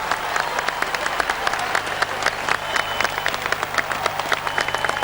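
An arena crowd at a judo world championship applauds the contestants after a gold-medal bout, with steady sustained clapping from many hands and sharp individual claps standing out close by.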